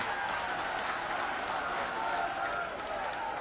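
A large crowd at an outdoor political rally applauds to welcome the politician Shivraj Singh Chouhan, producing dense, steady clapping with crowd noise that runs without a break throughout.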